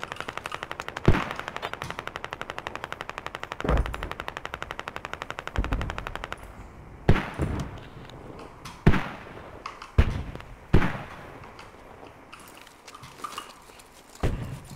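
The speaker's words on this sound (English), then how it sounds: "shots coming in south of our half" Incoming gunshots in a Squad-style military shooter: a fast, steady machine-gun rattle for about six seconds, then a string of separate heavy, echoing shots at irregular intervals, fairly distant and without talk.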